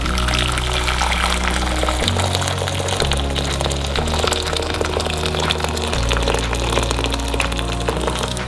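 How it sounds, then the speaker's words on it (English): Hot water from a kettle pours steadily and splashes into a pan, a continuous rushing sound with musical tones underneath. "So I'm just going to put some hot water into a pan."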